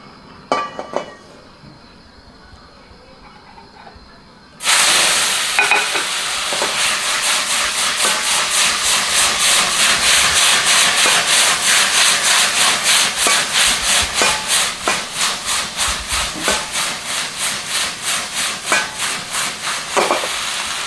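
After a few quiet seconds, loud sizzling and hissing erupts as water spinach is tossed in a hot wok, with rhythmic scraping strokes repeating to the end.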